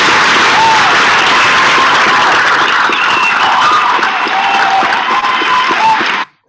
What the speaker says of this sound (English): So definitely want to give a round of applause.